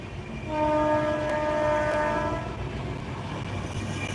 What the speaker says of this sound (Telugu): వెనకాల ట్రైన్ పోతుంది గమనించారా